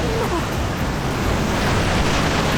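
Strong ocean waves at a surf beach, a loud, continuous roar of crashing surf and rushing water with wind, filling the whole scene with no break.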